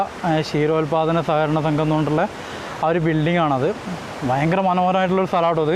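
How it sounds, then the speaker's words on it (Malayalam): A fast, forceful river rushes beside a bridge at Poovaranthod, giving a steady broadband roar that is mostly masked by someone talking over it and only briefly exposed in short pauses. "അത്രയും ശക്തിയിലാണ് വെള്ളം ഇങ്ങനെ ഒലിച്ച് വരുന്നത്."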